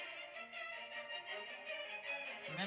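Violas take up the fugue subject in Britten's Young Person's Guide to the Orchestra, a brisk string passage played softly and continuously, with a lower entry starting near the end.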